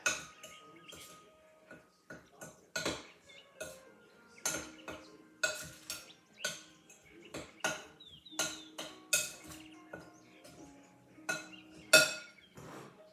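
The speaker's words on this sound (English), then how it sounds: "Mix it all up again." Muffin batter with sugar and brown sugar being mixed for pumpkin muffins: irregular clinks and taps of utensil against bowl, close and moderately loud, with quiet gaps between strokes and no talking.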